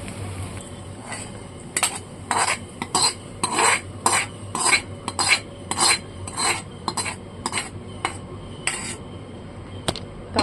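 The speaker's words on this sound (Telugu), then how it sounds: "ఈ తాలింపు తీసుకెళ్ళి పచ్చడిలో వేసుకోవడమే" A tempering is poured into ridge gourd and tomato chutney and mixed in. A spoon scrapes and clinks in a rhythmic series of close scraping strokes over a low background, with no talking.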